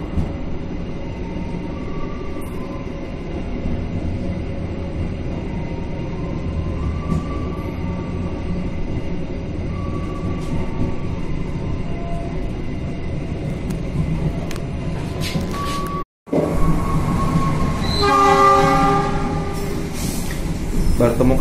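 Pangandaran passenger train running through Cikampek station without stopping: a steady, loud rumble of wheels and carriages throughout, with a brief dropout near the end followed by brighter rail clatter and squealing.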